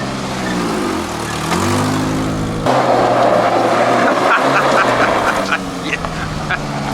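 A 1994 Ford Ranger pickup engine running on vegetable oil in the tank, its hum rising and falling in pitch as it revs, loud and close with rough mechanical texture.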